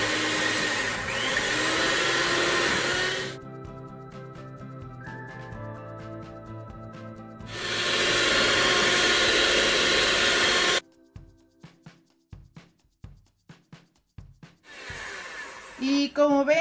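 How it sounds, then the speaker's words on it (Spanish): An electric hand mixer whips cream in a bowl, running in loud sustained bursts with quiet pauses between them and light clinks as it stops, then a final short burst. "vamos a necesitar mucha paciencia y una batidora de mano como esta. Y vamos a batirlo"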